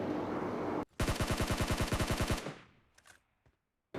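PUBG gameplay: one loud automatic burst of about fifteen rapid gunshots cuts through background noise, then fades into quiet with a few faint thuds.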